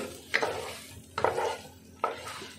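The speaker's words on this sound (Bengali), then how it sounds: "দিয়ে ভালো করে মশলার সাথে নাড়িয়ে চাড়িয়ে মাখিয়ে নেব।" Jackfruit and potato are stirred into spice masala in a pan, with three scraping strokes of a utensil against the pan over a soft sizzle, close and moderately quiet, with no speech.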